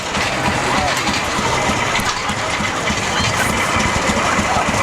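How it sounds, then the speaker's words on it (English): A 1920 Rumley OilPull antique tractor, steel wheels without rubber, running in a Fourth of July parade in Park River, a dense steady engine drone mixed with crowd noise and a voice talking over it. "The Rumley oil pull tractor."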